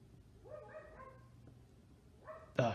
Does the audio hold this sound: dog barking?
yes